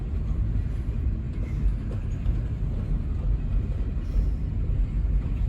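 A graffiti-covered freight train rolls slowly past, giving a steady, low rumble that holds at an even level throughout with no breaks or horn.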